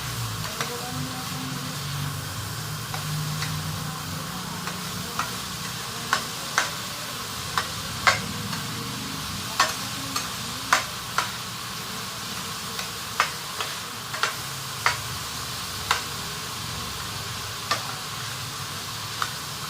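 Vegetables sizzle in a pan as a utensil stirs them, with light sharp clinks and scrapes against the pan at irregular intervals over a steady frying hiss.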